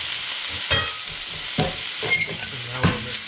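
Zucchini and dried shrimp sizzle steadily in a hot pan, with several scraping stirs of a utensil against the pan standing out close over the constant frying hiss.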